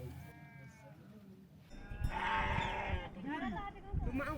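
Sheep bleating inside a sheep shed on a rainy monsoon mountain trek, a few wavering calls rising loud and close after a quieter stretch, with people's voices mixed in.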